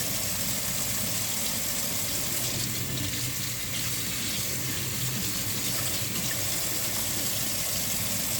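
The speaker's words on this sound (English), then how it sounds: "We're just gonna rinse the meat." Beef stew strips rinsed under a running tap: a steady, full splashing rush of water for the whole stretch, close and fairly loud, with faint shifts as the meat is turned, no voices.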